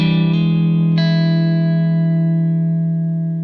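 A sustained, distorted electric guitar note that hammers on from the minor third to the major third, shifting up slightly, then rings out and slowly decays.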